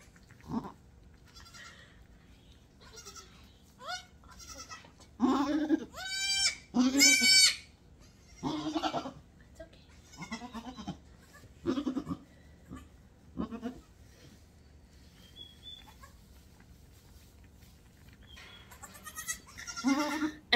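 Goats bleat in a garage after a birth: intermittent high, wavering calls from newborn kids and the mother, some close and loud, separated by quiet stretches and low rustling.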